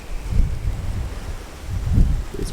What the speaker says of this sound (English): You can see the wind is still blowing.